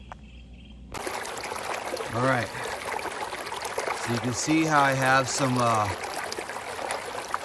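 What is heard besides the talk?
garden pond waterfall running after being turned on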